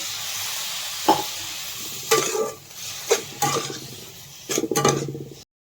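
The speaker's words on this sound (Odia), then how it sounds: "ମସଲା ସାଙ୍ଗରେ ଆଳୁକୁ 1 ରୁ 2 ମିନିଟ୍ ଏମିତି ଟିକେ କଷିବି।" Potatoes frying with spice masala in a pan, a soft continuous sizzle broken by several scraping stirs and clinks of the spoon against the pan, ending in silence.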